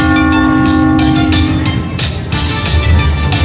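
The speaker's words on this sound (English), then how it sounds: "Bells. Ring my bell." Loud, sustained ringing bell tones fill a Dragon Link Happy & Prosperous slot machine over a constant casino din, the bright chimes pulsing in quick repeats.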